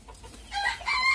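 Chickens and a rooster at an ornamental bird farm give a short, faint burst of crowing and clucking.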